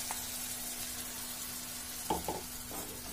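Two large tomatoes' worth of puree goes into hot oil and fried spices in a kadhai, giving a soft continuous sizzle under a faint steady hum, with a couple of brief stirring scrapes near the end.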